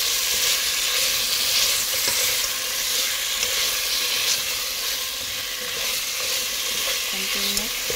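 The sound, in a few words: shrimp sautéing in pan for ginataang hipon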